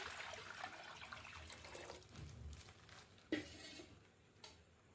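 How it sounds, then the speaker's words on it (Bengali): Water running into a cooking pot on a gas stove, a steady close splashing pour that thins after a couple of seconds, followed by a light metallic clink and a softer tap, no talking. "গ্যাস জ্বালিয়ে জল দিয়ে দেবো পরিমাণ মতন।"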